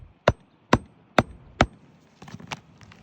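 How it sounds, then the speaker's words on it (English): A hammer drives a nail into a roof shingle with four sharp, evenly spaced strikes, followed by a few lighter, quicker taps; close and loud with no talking. "So in order for me to put the nail in straight, I have to lift the shingle up."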